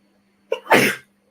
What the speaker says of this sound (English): Oh, sorry about that, just sneezed.